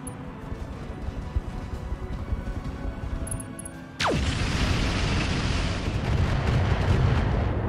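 Mech weapons firing in Roguetech, a rumbling barrage that breaks into a sudden descending whine and then a loud, dense roar of sustained fire and impacts, with no talking.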